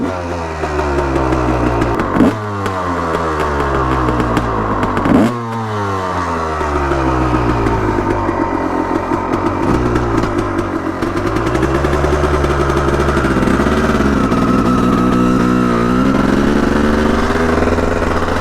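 A motorcycle engine running right after a first-kick start, loud and close, with a couple of sharp throttle blips early on before settling into a steady, slightly uneven idle.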